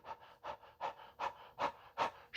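A man imitates short, rapid, stressed breathing, a steady run of about six quick panting huffs in an even rhythm, close and clear.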